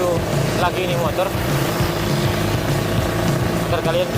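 A modified motorcycle rides through a city at night after heavy rain, its engine droning steadily throughout while someone talks over it.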